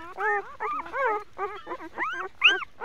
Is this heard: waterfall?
no